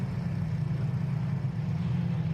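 Safety car circling a race track during a caution period, heard as a steady, moderate low engine drone passing at an even pace without talk.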